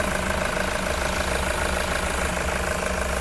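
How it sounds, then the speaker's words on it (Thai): 2016 Toyota Commuter van with a 3.0 diesel engine idling, a steady dense clatter and rumble heard up close for a few seconds with no one speaking. "ตอนนี้สตาร์ทเครื่องยนต์อยู่นะคะฟังเสียงเครื่องยนต์ได้ค่ะ"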